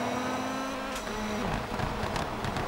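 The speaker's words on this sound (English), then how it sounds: "check that overrun out." Rally car in the Colin McRae Rally 2.0 racing video game lifting off the throttle, engine note dropping into crackling exhaust overrun with sharp pops, loud and close, steady engine drone throughout.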